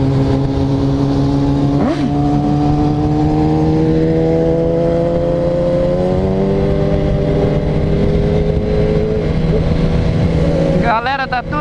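Motorcycles at a motorcycle meet in Minas Gerais, Brazil, engines running loud and close and rising steadily in pitch as they rev, with a quick burst of revving at the end.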